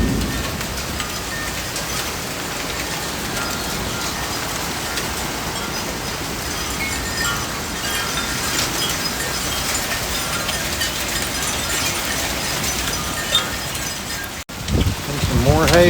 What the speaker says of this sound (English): get some hail coming down